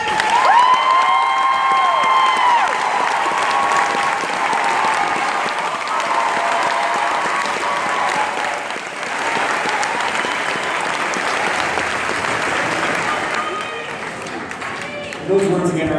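At a high school music department unplugged concert, a crowd applauds with some cheering, a broad, sustained wash of clapping that gradually tapers, with voices mixed in.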